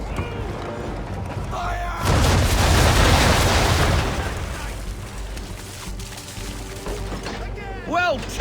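Ship's cannons fire round shot in a broadside during naval target practice in Assassin's Creed III, a heavy rolling boom lasting about two seconds, loud and near, with game music and ambience before and after.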